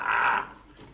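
A dog's short, throaty growl, a single close burst lasting under half a second before fading into quiet room noise.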